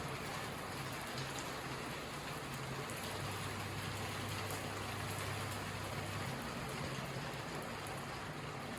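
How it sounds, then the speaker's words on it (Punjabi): Steady rain pours down continuously, a dense even hiss of drops on surfaces with a low rumble underneath, no voices. "ਮੀਂਹ ਆਉਣ ਲੱਗ ਗਿਆ"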